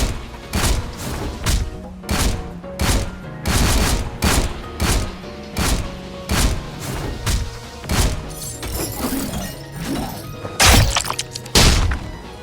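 Rapid gunfire from the Sorcerer Battlegrounds video game, a loud, steady run of sharp bursts landing about twice a second for several seconds, with a few heavier thuds near the end and no talking.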